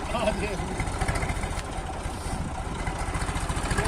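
A vehicle engine runs in a rural village, giving a steady, pulsing low rumble that rises in bursts of revving throughout, with voices faintly in the background.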